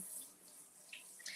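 Kitchen tap running while something is rinsed, a faint, steady hiss of water with small splashes near the end, quiet and alone.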